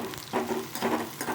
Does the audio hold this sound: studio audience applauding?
no